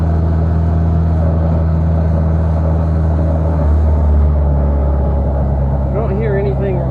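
A car engine in Gran Turismo 6 runs steadily with a loud, constant low drone, having just hit a little boost and vibrating slightly. A voice talks over it throughout.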